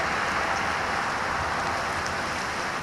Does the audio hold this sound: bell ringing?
no